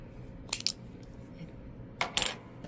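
Knitting yarn is cut with two quick, crisp snips about a second and a half apart, quiet and close against a soft background hum.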